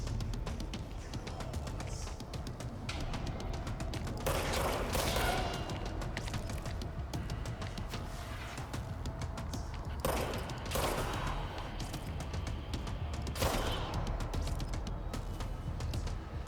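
Gunfire from a weapon in the game Control, several sharp bursts of shots spaced through a busy, rumbling combat scene, with a low mechanical hum underneath.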